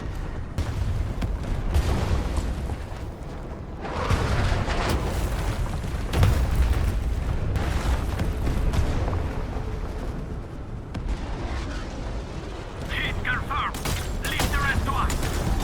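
Explosions from a tactical support strike in Arknights Endfield, a loud sustained barrage of booms and rumbling blasts that rises in waves over several seconds with heavy low-end impact.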